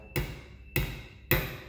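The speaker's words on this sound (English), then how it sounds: "we now drive the driver rod into the stud" A hammer drives a driver rod into a stud from a screw extractor set, giving three sharp, close metallic blows evenly spaced about half a second apart, with nothing else in between.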